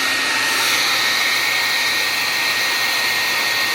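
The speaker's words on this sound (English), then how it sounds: "I think I'm gonna run a blow dryer." A blow dryer with a diffuser attachment runs steadily on curly hair, a loud, constant airy whoosh with no pauses.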